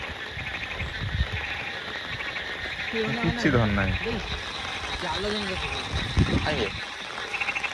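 Frogs croak through steady rainfall beside water where people are fishing, while voices talk loudly over the chorus.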